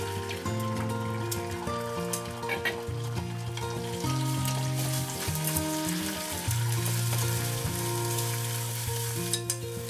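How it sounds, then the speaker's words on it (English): Soft scrambled eggs cooking in a pan, a continuous sizzle and crackle lasting throughout, mixed with steady background music and no speech. "let's make soft scrambled eggs"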